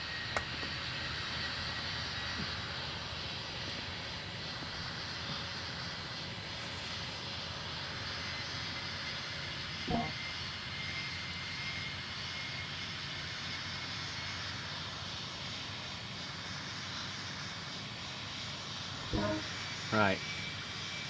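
An airliner's jet engines drone steadily at Copenhagen airport in the Tower Simulator 3 game, a constant mid-distance whine and roar holding throughout, with a few brief clicks and a short burst of radio-style chatter near the end.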